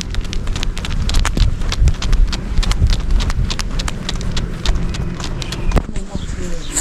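Cattle hooves walking on a mountain road, a steady stream of sharp, close clip-clop strikes in uneven rhythm, with a person speaking over them.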